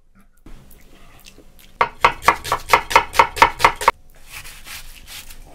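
Rapid, evenly spaced knife strokes mince ingredients very finely on a wooden board for a herb tomato sauce, a burst of about ten close, crisp knocks after a quiet start, then a softer scraping as the pile is gathered.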